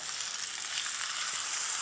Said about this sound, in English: OK, so nice hot pan. Yep. Let that do its sizzle